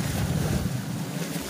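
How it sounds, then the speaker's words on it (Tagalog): Loud, rushing surf churns steadily, with heavy waves washing and wind buffeting the microphone throughout. "Laki ng alon."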